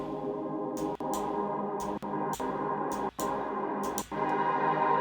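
A processed, reverb-drenched vocal sample pitched up three semitones plays as a quiet, sustained airy pad, broken by short rhythmic gaps and choppy bright bursts in a steady pattern.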